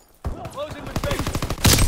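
Primary battery gunfire in a video game, a rapid run of sharp, evenly spaced shots building to a louder blast at the end, with a voice heard beneath.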